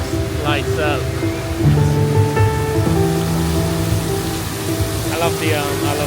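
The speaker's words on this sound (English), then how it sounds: "Nice waterfall." An indoor decorative waterfall at the ICONSIAM shopping mall gives a steady, dense splashing rush that fills the background while someone talks over it.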